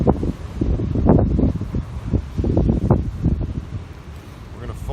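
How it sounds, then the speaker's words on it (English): Outdoor wind buffeting the microphone during cooking of Thai spring rolls, a loud low rumbling roar that surges and swells in gusts throughout, with a voice faintly mixed in. "There's the wind again."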